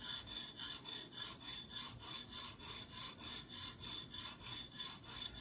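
A Leatherman Wave multitool blade is drawn back and forth on a TSPROF Alpha guided sharpener to set a burr during a 17-degree reprofile, giving a steady, rhythmic rasping scrape of about three strokes per second, close and alone.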